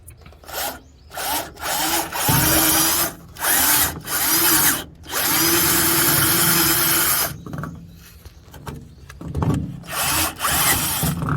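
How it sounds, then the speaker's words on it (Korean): Power drill with a 20 mm hole saw cutting a drain hole into a Ford F150 bed, loud grinding bursts of varying length separated by short pauses. "구멍을 뚫어서 홀쇼로 뚫어서 얘를 이쪽으로 배수가 되도록 하겠습니다"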